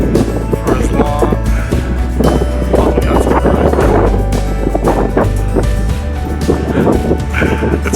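Strong wind buffeting a hilltop watchtower overlooking rolling hills, a loud, continuous rumbling roar against the microphone with gusty surges, and a person talking faintly beneath it.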